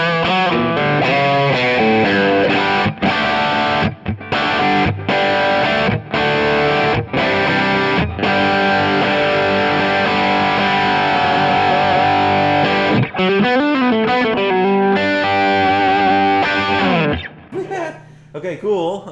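Aggressive, heavily distorted electric guitar through an Orange amp profile on a Kemper, set up for a praise-and-worship rig: loud, saturated chords, choppy stop-start hits early on, then longer sustained ringing phrases, up close and alone.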